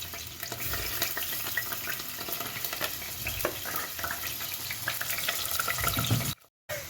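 Kenyan chapati sizzles and fries steadily in a hot pan, a continuous crackling hiss with small pops, close and moderately loud before a brief silence near the end.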